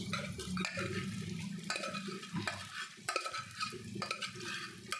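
Beef already cooked is stir-fried with onions and curry leaves for tawa kari, a steady close sizzle broken by repeated scraping stirs of the spatula against the pan, with no talk.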